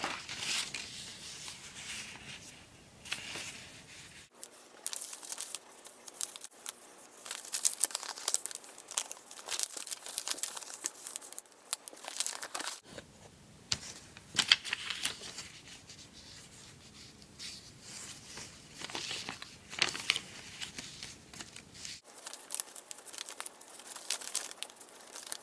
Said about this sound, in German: Jetzt müssen wir das Papier entlang den Linien falten